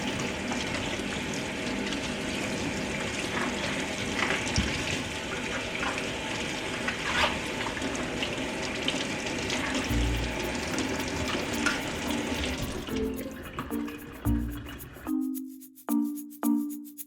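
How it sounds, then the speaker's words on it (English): A cabbage is rinsed under a running kitchen tap. The water gushes steadily and splashes for a long stretch, then it breaks into short bursts as the flow is stopped and restarted. "then give it a good rinse"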